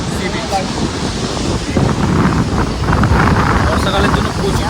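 Sea waves and wind at New Digha beach, a loud steady rush of surf mixed with blustery wind buffeting the microphone, continuous throughout with no distinct breaks.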